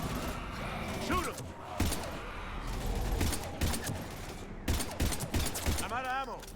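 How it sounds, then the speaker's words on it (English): Gunfire in the video game Mass Effect 3, fighting Husks near the Normandy: repeated bursts of shots and fusillades with thuds, mixed with shouted voices and in-game dialogue over the combat. "We're taking heavy fire."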